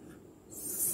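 A marker or chalk writes a number on a classroom board, producing a brief soft scratching stroke that grows louder toward the end, close and isolated.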